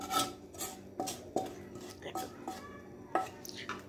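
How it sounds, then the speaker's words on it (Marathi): A utensil scrapes fried spice mix out of a pan onto a plate for moong dal khasta kachori, giving repeated rasping strokes at a steady rhythm, close and moderately loud. "इथं एका प्लेटमध्ये मी आपला हा सगळा मसाला काढून घेईल"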